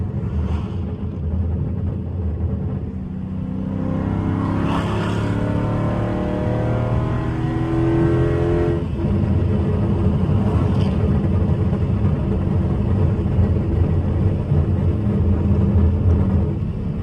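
Tuned Dodge Charger SRT 392 V8 heard from inside the car as it accelerates at half throttle: a deep, loud rumble whose pitch climbs steadily for several seconds, then settles into a sustained heavy drone.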